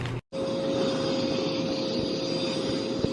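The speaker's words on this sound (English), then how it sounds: "I'm gonna vacuum so it's nice and clean for my next trip." Steady vacuum cleaner drone while a suitcase is cleaned out, a continuous close whine with a brief cut near the start and no talking.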